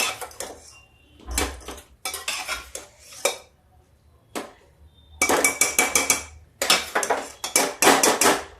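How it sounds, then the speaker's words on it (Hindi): A metal pot of cabbage sabzi is covered with a lid, producing repeated close, loud metallic clanks and scrapes in uneven bursts with short pauses between them. "थोड़ा सा ढक देते हैं जरा सा"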